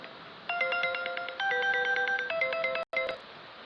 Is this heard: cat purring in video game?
no